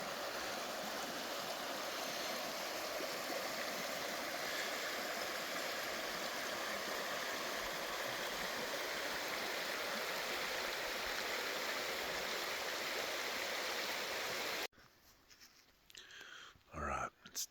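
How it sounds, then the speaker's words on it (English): Constant broadband rush of the South Fork Teton River, a flowing Montana mountain stream, loud and close for most of the stretch before it cuts off into quieter rustling and handling noise. "Look at that stream. That's a Teton River right there."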